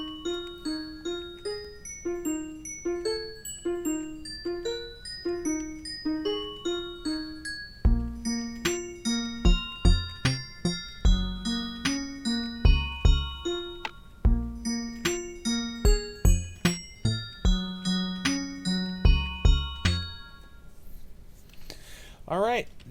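Minecraft note blocks play a song, a plinking chime melody that starts sparse and quiet, then thickens with bass notes into a steady rhythmic pattern before ending.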